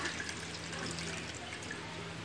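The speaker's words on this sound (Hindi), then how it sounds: "पानी डाल दें इसके अंदर" Water is poured onto a coco peat block in a soft, steady trickle that runs quietly and evenly for a couple of seconds.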